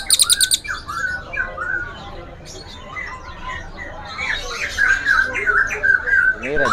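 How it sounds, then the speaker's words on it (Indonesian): A cililin songbird sings at a bird market, with rapid high chirps, trills and whistled phrases close by, over background chatter and market noise. "yang nyari burung cililin pur total gacor kayak gini ya"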